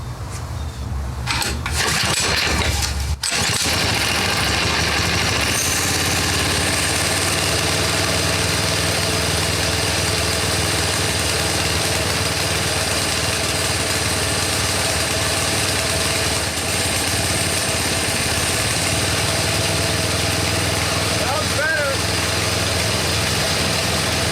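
A Predator small engine on an old go-kart, just freed from being locked up, starts and keeps running with a loud, continuous, even buzzing idle heard close by for the whole stretch.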